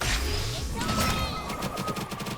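Aya firing her pistol after her Q skill in the game Eternal Return, a rapid burst of roughly ten sharp shots in quick rhythm over busy game effects.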